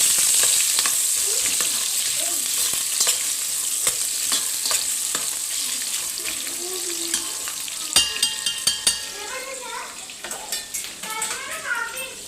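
Green chillies frying in hot oil in a pot for prawn biryani, a bright steady sizzle with sharp pops and crackles, plus metal utensil clinks and scraping toward the end.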